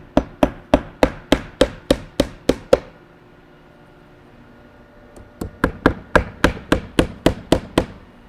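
Hammer blows driving nails to fasten a horizontal siding wall panel: a quick run of about ten sharp, even strikes, a quiet pause, then another rhythmic series of about a dozen knocks, close and clear.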